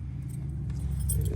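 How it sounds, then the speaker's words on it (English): Original key for a 1932 Ford Model B jangling close by, a steady metallic rattle running throughout over a low background rumble. "The original key for this car"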